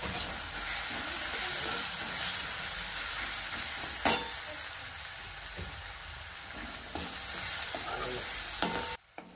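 Green chillies and onion fry in oil while being stirred, a steady hissing sizzle with occasional utensil scrapes and one sharp knock, fairly quiet and close, ending abruptly.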